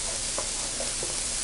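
Diced white onion and peppers fry in a pan with a soft, close sizzle, while a few light scrapes of stirring come through over the short stretch.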